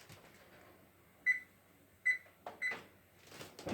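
Three short electronic beeps spaced apart, close by and quiet, as a kitchen timer is set for 6 minutes, followed by some faint handling noise.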